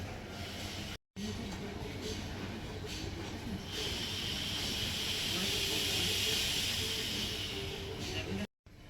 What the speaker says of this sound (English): Have the like crazy steam engines over here.